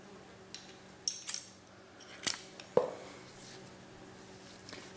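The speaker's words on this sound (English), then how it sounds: "I'll cut this yarn" Scissors snip through crochet yarn in a few quick, crisp cuts, close and fairly quiet, spaced over a few seconds in an otherwise calm room.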